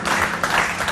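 Studio audience on a televised quiz show breaking into applause, a brief dense burst of many hands clapping, fairly loud and close.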